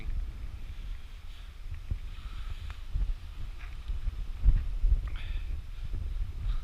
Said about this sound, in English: That wind's like freezing, man.